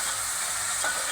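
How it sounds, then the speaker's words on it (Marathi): Onions frying for a mutton curry hiss in an even, close sizzle as tomatoes go into the pan, with a brief louder burst near the end and no talk. "आता आपल्याला त्याच्यामध्ये टोमॅटो टाकून घ्यायचे."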